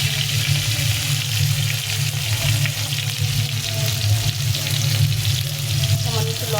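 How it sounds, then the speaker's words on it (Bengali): Sliced potatoes fry in hot oil with salt and turmeric, a loud, steady sizzle close by with occasional stirring scrapes throughout. "প্রথমে আলুগুলো ভালো করে ভেজে নেব। লবণ আর হলুদ দিয়ে ভেজে নেব।"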